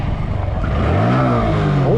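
Car engine revved with short throttle blips that rise in pitch and briefly stumble, loud and close, with a steady engine drone underneath.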